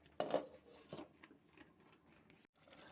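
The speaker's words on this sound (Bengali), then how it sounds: "এখন আমি লিডটা দিয়ে একটু ঢাকা দিয়ে কিছুক্ষণের জন্য সেদ্ধ হতে দেবো।" A lid goes onto a cooking pot on a gas stove with a brief rasping scrape and a clatter, followed by a couple of lighter metallic rubs, close and quiet with no talk.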